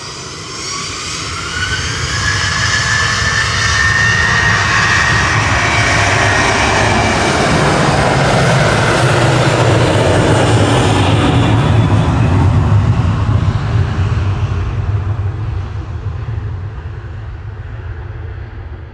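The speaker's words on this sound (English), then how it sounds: "It's Eva departing again." An EVA Air jet airliner departs Manchester Airport, its engine roar swelling to a loud, steady rumble with a rising whine, then slowly fading as it climbs away; no voices.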